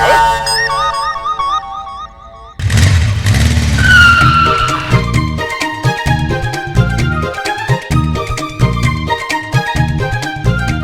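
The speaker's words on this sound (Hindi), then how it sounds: "मैडम आप बहुत तूफान की तरह बाइक चलाती हैं" A motorbike ridden hard comes to a sudden stop, with a harsh skid squeal cutting across loud music in a comedic Indian police-station scene.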